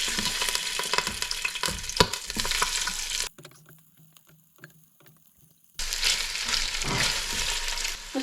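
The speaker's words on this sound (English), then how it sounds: "So I've taken the ribs out of the fridge, and I'm now going to just brown them off in the 11-in-1" Pork ribs browning in an 11-in-1 multi-cooker, a loud close sizzle with stirring clicks that cuts out to near silence midway, then returns just as strongly.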